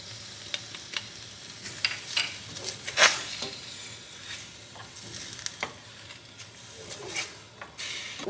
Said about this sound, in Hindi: ये चिकन को मैंने फ्राई कर लिया।